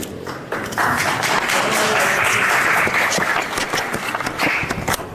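An audience bursts into dense applause at the close of a Srimad-Bhagavatam lecture, the clapping starting abruptly after a brief lull and continuing strongly for several seconds, with faint voices mixed in.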